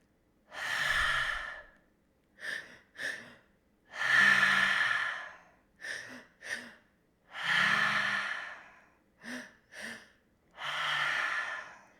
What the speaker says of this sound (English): taking another breath and filling up the chest all the way up to the top of the throat